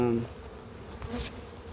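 Honeybees at an active hive during a late-winter inspection make a steady, fairly faint buzzing drone that continues for the whole short stretch, with no voices over it.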